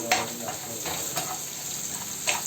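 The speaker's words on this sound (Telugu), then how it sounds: "రెండు పచ్చిమిరపకాయ ముక్కలు దీన్ని బాగా దోరగా వేయించుకోవాలి" Green chili pieces and onion frying in oil in a pan, giving a soft, steady sizzle with a few faint stirring clinks, all at low volume.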